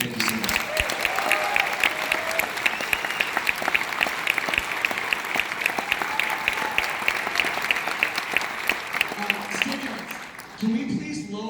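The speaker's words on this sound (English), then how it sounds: "So another round of applause for the marching band." Crowd applause for a high school marching band: sustained, dense clapping from a large audience lasting over ten seconds, fairly steady, with voices murmuring faintly underneath before it fades.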